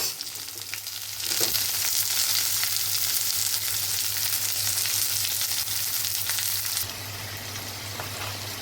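Onion and tomato cooking in a hot pan for a mushroom paneer masala, a loud sizzle that starts with a sudden hiss and holds steady before dropping back to a softer fry, under a low background hum.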